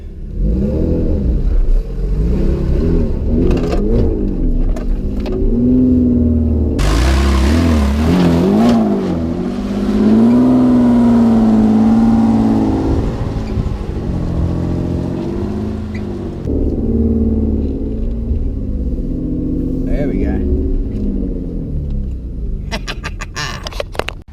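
A 4WD climbs over a rut on a day trip in the Glasshouse Mountains, its engine revving loudly and steadily, rising and falling in pitch as it works up and over, close and continuous with no talk.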